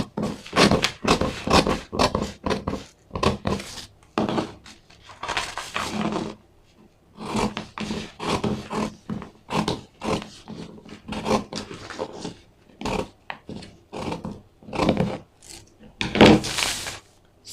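Scissors cut through corset fabric pieces in short repeated bursts of crisp snipping and rasping, close and fairly loud, with brief pauses between runs of cuts.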